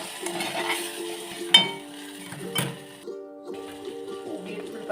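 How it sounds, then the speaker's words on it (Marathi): Sambar ingredients with jaggery, tamarind and curd being stirred in a pot, heard as soft scraping and a few clear metallic clinks of a spoon against the vessel, fairly quiet and close. "आता हे हलवून घेऊया."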